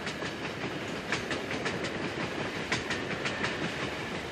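A train rolls steadily along the rails on the run from Pittsburgh to South Fork, with a continuous close rumble and repeated sharp clickety-clack wheel beats over the track joints.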